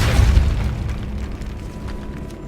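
Depulso spell blast in the video game Hogwarts Legacy, a loud deep boom that hits at once and then rumbles away over about two seconds, with no talking.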